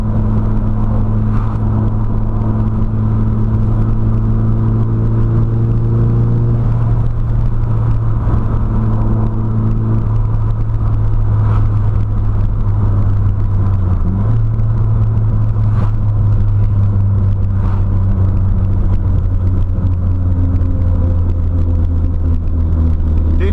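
Nissan Silvia PS13 with SR20DET engine driving on the road, a continuous loud in-cabin engine drone with tonal drivetrain whine rising and falling with speed, no talking.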